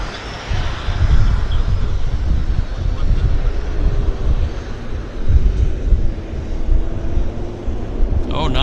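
A Porter Airlines Q400 turboprop taxies at Vancouver Airport, its broad steady engine roar and wind rumble filling the scene continuously with a low throbbing drone.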